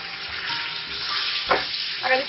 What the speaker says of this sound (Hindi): अब इसको अच्छे तरीके से प्याज के साथ फ्राई कर लूंगी